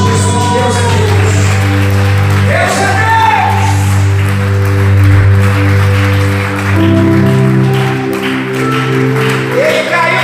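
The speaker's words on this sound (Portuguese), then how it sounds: "Salve de palmas para Jesus." A church congregation applauds and cheers with shouts and whoops over loud sustained music, clapping filling the background while a voice speaks briefly.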